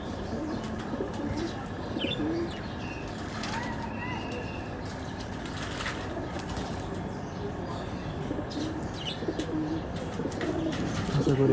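Soft pigeon coos recur through an outdoor loft where young pigeons gather to bathe under hot sun, with a few chirps and brief wing flutters, while a person talks over the steady background.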